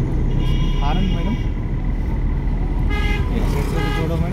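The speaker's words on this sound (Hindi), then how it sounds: "horn madam" A car horn honks during a driving lesson at a turn, sounding twice as short bright toots over engine and road noise. An instructor talks between the honks.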